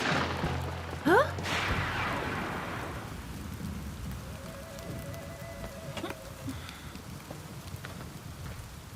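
Heavy rain pours steadily in a stormy outdoor scene in The Last of the Mohicans, a loud continuous hiss of drops on surfaces, with a brief rumble early on and faint tonal sounds in the middle.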